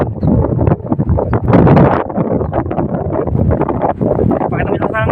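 Strong gusting wind roars steadily against the microphone beside a coastal hut in the Philippines, loud and close, with surging gusts and no clear speech.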